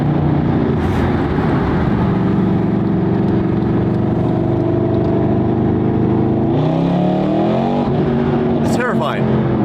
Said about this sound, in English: The downshifts sound really good